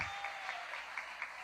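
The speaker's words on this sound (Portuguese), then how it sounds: "Dê um aplauso ao Senhor." A church conference crowd claps steadily, a dense patter of applause with rhythmic accents, continuous for the whole short stretch.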